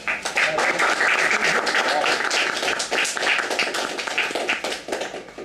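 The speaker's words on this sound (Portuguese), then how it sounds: "Uma salva de palmas, pessoal." Applause from the audience at a political union meeting, a dense, steady wash of many hands clapping that holds loud for about five seconds and then begins to thin.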